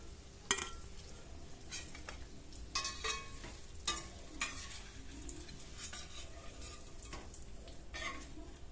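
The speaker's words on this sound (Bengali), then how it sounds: "পনিরটা ভাজার জন্য দিয়ে দিলাম" Paneer pieces frying in hot oil and being lifted out of the pan, a soft continuous sizzle under scattered scraping and clinking of a utensil against the pan.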